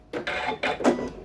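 A Janome Skyline S9 embroidery machine starts to stitch through fabric, giving a few short mechanical whirring pulses in quick succession, close and moderately loud.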